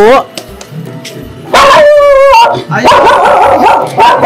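A dog barks, yips and howls close by in loud, excited bursts, with people talking over and between the sounds.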